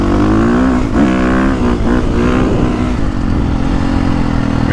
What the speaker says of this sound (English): Man, do I like this new engine.